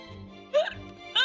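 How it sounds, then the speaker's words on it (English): Two short, soft hiccups jump up in pitch about half a second apart over a quiet background hum. "Oh, hiccup burp."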